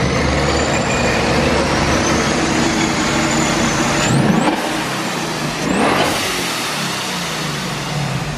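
A supercharged 2021 Ford Mustang Mach 1 with an ESS supercharger and its exhaust in quiet mode revs loudly and steadily on a dyno. Two rising whines and sharp pitch sweeps stand out near the middle of the run.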